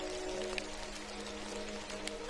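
Night rain falls in a steady, soft hiss with faint scattered drops, while a quiet low tonal hum runs underneath throughout.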